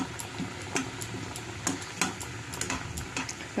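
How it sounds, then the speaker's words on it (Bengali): Jujube (kul) chutney simmers in a pan, a soft bubbling sizzle under repeated light scrapes and taps of a spoon stirring, close up, no voices. "দেখুন একটু নাড়াচাড়া করছি।"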